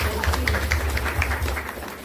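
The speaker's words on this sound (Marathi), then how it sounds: "त्यांच्यासाठी एकदा जोरदार टाळ्या होऊ." Applause at a village women's group haldi-kumkum gathering, a steady wash of many hands clapping at moderate distance, even and sustained, tapering slightly toward the end.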